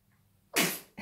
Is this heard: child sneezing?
yes